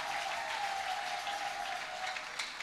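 Sustained congregation applause during a Sunday morning church covenant service with communion, an even wash of many hands clapping at moderate, slightly distant volume.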